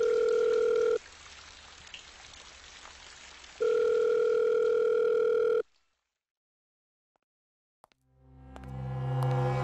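Two long, steady telephone ringback tones sound with a pause between them, then the line goes silent before a clatter and rising sounds follow.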